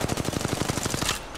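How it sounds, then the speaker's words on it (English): Rapid automatic gunfire in the Apex Legends Mobile video game, about a dozen evenly spaced loud shots in a fast burst lasting just over a second, then an abrupt stop. "I'm taking the shot."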